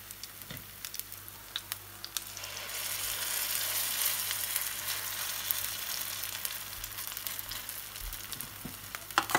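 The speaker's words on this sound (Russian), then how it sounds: "И обжариваю до полной готовности" Grated potato hash browns fry in a pan, a soft, steady sizzle that swells after a quiet start and holds a fine, close crackle with occasional light pops.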